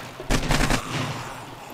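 AK rifle fire in the zombie survival game 7 Days to Die on insane-difficulty horde night: a quick burst of about four loud, sharp shots close together, followed by a fading tail.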